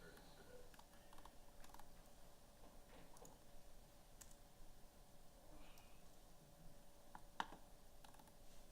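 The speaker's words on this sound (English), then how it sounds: "Oh, do it on the keyboard." Fingers typing on a computer keyboard during a workshop breakout session, quiet irregular key clicks scattered over a low room hum, fairly distant and faint with no speech.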